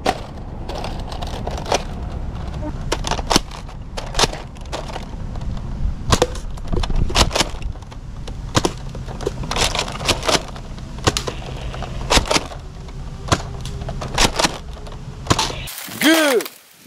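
A Nerf AK47 Dragunov toy sniper blaster fires in a rapid run of sharp, close plastic snaps and clacks, ending in a brief rising whir.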